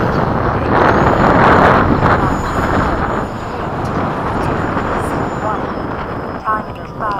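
A Freewing 90mm F-15 RC jet comes in to land without flaps in high wind, its ducted-fan whine mixing with heavy wind buffeting on the microphone, loud and continuous throughout.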